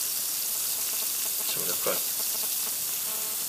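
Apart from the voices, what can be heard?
calcareous aquarium material fizzing in acid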